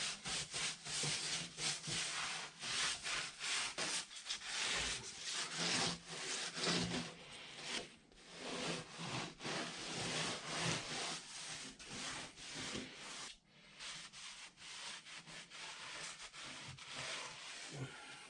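A lathe chip tray from a 1960 South Bend lathe being scrubbed after a foaming spray, with steady rhythmic rubbing and scraping strokes, close and fairly faint, repeating for many seconds without talk.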